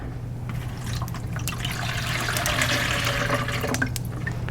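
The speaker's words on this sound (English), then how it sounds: "I've put in 4 cups of water into my glass jar, and I'm gonna just add this right into my cauldron." Four cups of water pour from a glass jar into a cauldron in a steady, close splashing stream with trickles and drips, and no voices over it.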